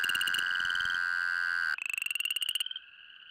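A dense chorus of North American chorus frogs trills steadily from a wetland during mating season, with layered high-pitched calls, then a pulsing run of croaks before fading to a thinner trill.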